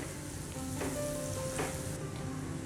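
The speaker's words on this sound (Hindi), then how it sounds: "बटर मेल्ट होने के बाद हम इसमें 1 छोटी प्याज ऐड करेंगे, बिल्कुल बारीक चॉप करके।" Finely chopped onion frying in melted butter over a low flame, a steady soft sizzle running throughout with a couple of faint stirring scrapes, close by and alone without talk.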